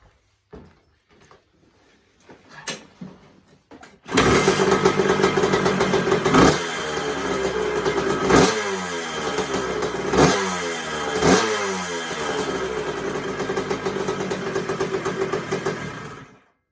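A 1980 Suzuki RM125 motorcycle fires up after a few quiet clicks, settling into a loud, close, buzzing engine note with repeated sharp throttle blips and revs that continue to the end.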